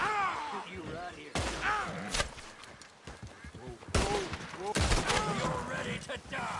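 Loud gunshot bursts from the video game Red Dead Redemption 2 crack out a few times, close together, under and between people talking.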